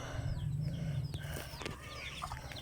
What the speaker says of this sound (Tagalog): Tignan natin mga manok.